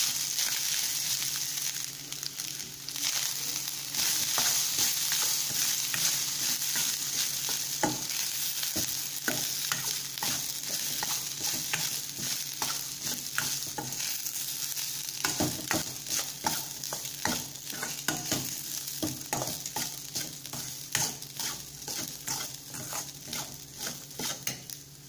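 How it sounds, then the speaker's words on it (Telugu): Ajwain rice with salt is stirred in a frying pan, giving continuous gentle sizzling and a quick, regular series of scraping and tapping spoon strokes, close and steady throughout, with no voices. "రైస్ తగినంతా ఉప్పు వేసి కలుపుకుందాం"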